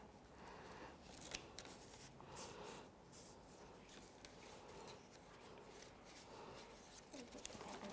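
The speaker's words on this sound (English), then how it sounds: "So let's hold our paper this way and go straight up with your scissors." Scissors cut paper at a milk jug monster craft table, a series of soft crisp snips and rubbing rustles that come close together, quiet and near, with faint talk in the background.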